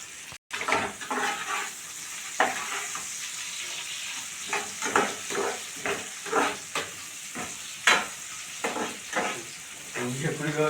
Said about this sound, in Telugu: ఇప్పుడు ఇవి కూడా గోల్డెన్ కలర్ వచ్చేలా ఫ్రై చేసుకోవాలి.